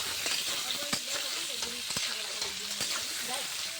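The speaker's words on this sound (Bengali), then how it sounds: "মাংসটা পেঁয়াজটা একটু ভেজে নিয়েছি, এখন মাংস পেঁয়াজ দুটো একসাথে ভাজা হবে ভালো করে" Chicken pieces and onions fry together in a pan with a steady, close crackling sizzle, broken by repeated sharp scrapes and taps of a stirring spoon, with faint speech in the background.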